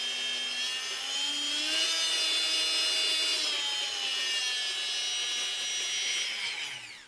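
A Bosch PMF 220 CE 220-watt oscillating multi-tool runs alone in a steady, close, high whining buzz, its pitch climbing slightly as power is raised, then winding down at the end.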